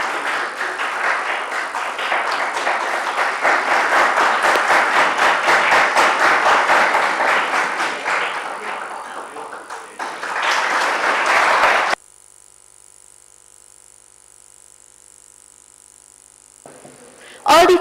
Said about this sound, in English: Let's give a huge round of applause for his invaluable contribution.